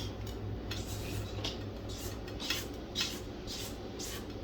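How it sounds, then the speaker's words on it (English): Scraping and clinking of a spoon stirring flour into cinnamon roll dough in a bowl, repeated light strokes with soft knocks against the sides, fairly quiet and steady with no talking. "You want to start pouring the rest of your flour in there and just stir it in there."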